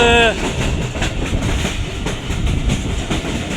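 Old-coach Awam Express passenger train (13 Up, Rawalpindi) running, with steady loud rumbling and rhythmic clattering of the carriages throughout, after a brief tonal whine at the very start.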